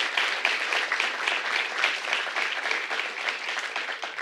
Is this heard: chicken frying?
no